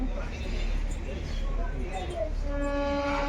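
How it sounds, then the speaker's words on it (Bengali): An LHB-coach express train's whistle sounds as a steady high tone near the end, over rumbling rail noise and background voices aboard. "ট্রেনের হুইসল বেজে গেল"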